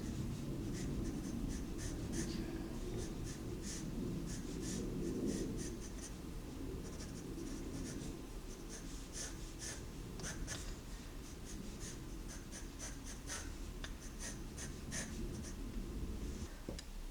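A 2B graphite pencil sketches quickly on paper, with rapid repeated scratchy strokes close up over a low steady background hum.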